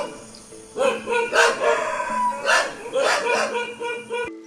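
Dogs bark loudly and repeatedly at a Thai marine ranger base as a young elephant wanders in, overlapping yelps forming a continuous close chorus.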